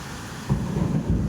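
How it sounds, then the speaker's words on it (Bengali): Low rumbling thunder rolls through a storm in two swelling bursts over a steady wash of rain, fairly close and loud, with no voices. "কেন এত বাজ পড়ছে"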